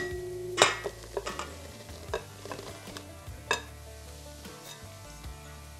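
Pretzel dough mixture being stirred in a bowl, with a few sharp scraping clinks standing out over a low, steady stirring rustle.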